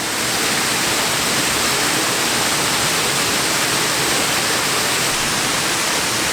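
A waterfall at the Fiery Gizzard roars as a loud, continuous broadband rush of falling water, steady and unbroken from start to finish with no voices over it.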